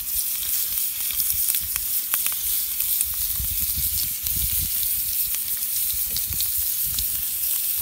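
Shrimp crackle and sizzle steadily in a hot, crowded wedge-shaped shrimp pan, a continuous dense frying hiss with low bubbling surges, close and fairly loud with no talking.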